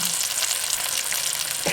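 Three small slices of bacon crackle and hiss steadily in a pan, a dense, close sizzle that runs unbroken with no talking.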